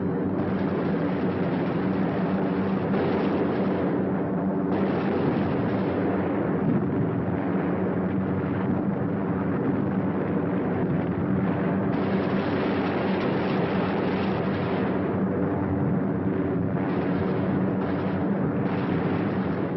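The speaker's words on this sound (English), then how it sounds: "The third task force comes over its target at Danzig. Bombs away." Old archival recording of an aerial bombing raid on Danzig harbor: continuous heavy rumbling explosions and droning aircraft engines, dense and muffled, loud throughout with no voices.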